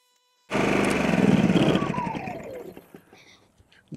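A Champion 2500 dual fuel inverter generator starts abruptly and runs with a loud, buzzing small-engine drone close by, the pitch sliding downward as it settles and fades to a quieter idle.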